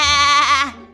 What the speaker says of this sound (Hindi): उस सांप को देखकर उस बकरी ने तुरंत चिल्लाना शुरू कर दिया।